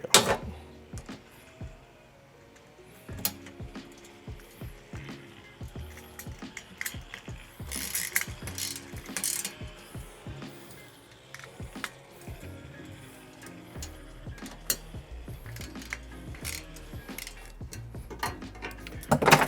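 A ratchet with a 7 millimeter socket tightening bolts on a CROW Molle overhead rack inside a Jeep, giving rapid, irregular clicking bursts with clanks and rattles, close and fairly steady throughout.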